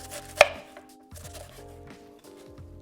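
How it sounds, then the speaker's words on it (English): A knife chops radicchio into thin ribbons on a board, one sharp close cut followed by a few softer strokes, with a low hum in the background and nobody talking. "And then you give it a chop."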